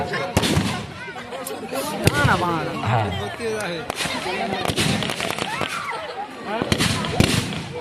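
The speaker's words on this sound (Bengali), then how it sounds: "চলছে ফায়ারিং, ফায়ার চলছে।" Army firing during an India–Pakistan conflict: repeated sharp explosive bangs in irregular bursts, some close and loud, over a busy background with voices talking throughout.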